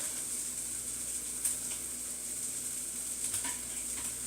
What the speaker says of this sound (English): while that's sizzling away there